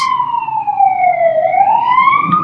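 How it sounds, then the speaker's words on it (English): An emergency vehicle siren passing close by outdoors, one loud continuous wail sweeping down and back up in pitch over a couple of seconds, with faint road rumble beneath and no talking. "I'm going to wait for that siren to pass."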